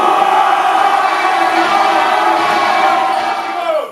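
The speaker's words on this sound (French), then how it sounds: "vos applaudissements pour les vainqueurs du trophée U17 masculin 2019" A basketball crowd cheers and applauds the winners of the 2019 U17 men's trophy, producing a loud, continuous roar of shouts and whoops in an indoor arena that fades at the very end.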